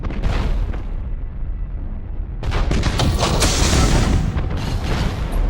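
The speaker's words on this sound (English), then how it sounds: "Fire all weapons!" Warship weapons firing in a space battle in Battlefleet Gothic Armada: loud, dense booming barrages and explosive volleys roll on continuously, swelling into a heavier wall of blasts midway.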